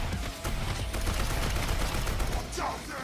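Dense, continuous burst of video game gunfire from a game trailer, loud rapid shots running for about three seconds with no talk over them.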